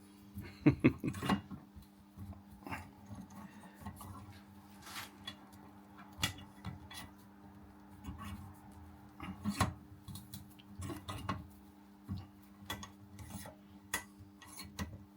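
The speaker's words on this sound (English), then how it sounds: "That's just a chain splitter then that." Small metallic clicks, taps and rubs from a chain splitter (link extractor) being handled, scattered irregularly and close by, with a brief cluster of sharper clinks near the start; no talk.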